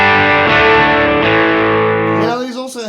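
A distorted electric guitar chord rings loud through a Fender amp, sustaining for a couple of seconds before dissolving into a few quick, wavering higher notes.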